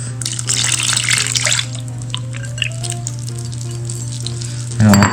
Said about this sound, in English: the next step will just be to add in our wet ingredients. So we have a cup of vegetable oil, 2 cups of milk